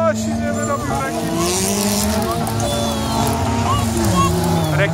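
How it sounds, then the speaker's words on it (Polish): A Honda wreck car racing at a Wrak Race event, engine droning and shifting pitch steadily throughout, loud and continuous, with a commentator's voice talking over it. "Rekin pojechał i jedzie ta sama Honda, którą ja jeżdżę."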